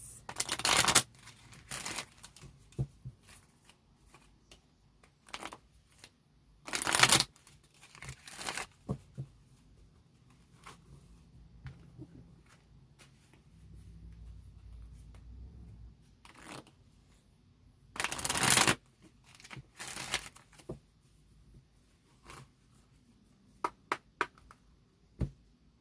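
Love oracle cards shuffled by hand, several loud crisp riffles and softer sliding shuffles repeated over the stretch, close up with quiet gaps between, no talking.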